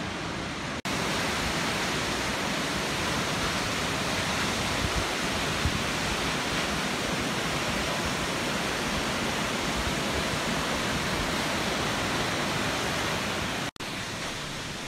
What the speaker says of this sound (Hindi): क्या गरजता हुआ झरना है